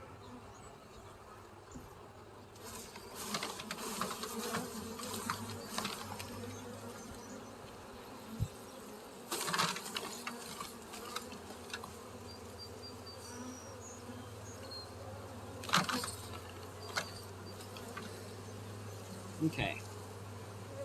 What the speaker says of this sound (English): I want to get as many bees into this additional hive as possible, and shaking them is one of the easier ways to do that